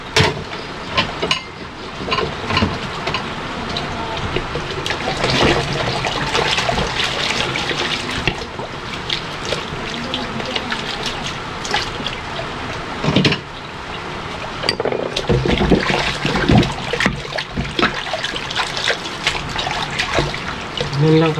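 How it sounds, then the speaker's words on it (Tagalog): Tap water runs and splashes steadily into a sink while dishes are washed by hand, with clattering and brief dips in the flow. "Ganun lang kasimple maghugas ng plato"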